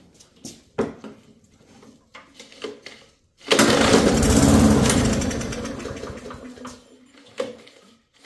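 An old push lawn mower engine, fed fresh gas and a shot of brake cleaner, catches in a loud, rough roar that sputters and fades after a few seconds, framed by quieter knocks and clatter before and after.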